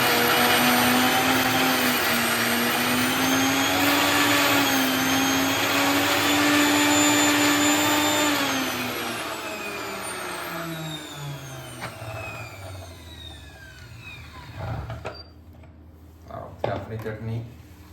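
A mixer grinder whirs through coconut chutney with water, a loud, steady motor whine that drops in pitch and winds down after about eight seconds, followed by a few quieter clatters.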